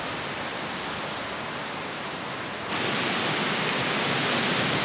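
Strong wind roars across Little Solsbury Hill, a dense broadband rush buffeting the microphone that surges louder partway through and stays loud, with no voices.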